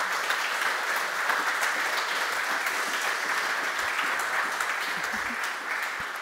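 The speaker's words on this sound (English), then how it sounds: "Please give a round of applause to Christian," A round of applause from the audience at a tado° press event at IFA, steady and sustained for several seconds, dense clapping filling the room, with a faint murmur of voices underneath.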